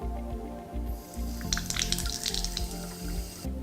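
Water runs steadily through a Chicago Faucets 405 Series tap with its aerator removed, flushing the line; a close, continuous splashing rush over a low hum, with no talking.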